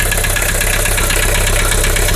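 A car engine idles with a steady, loud mechanical clatter and a persistent knock from the engine, heard close up with no talking.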